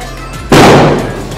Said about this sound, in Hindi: पटाखे पटाखे चलाने निकला ये भी बच्चा